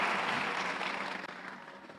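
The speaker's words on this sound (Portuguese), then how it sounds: "Aplauda Ele." A church congregation applauds together in a sanctuary. The clapping is steady and broad at first, then slowly thins and fades, with no one speaking over it.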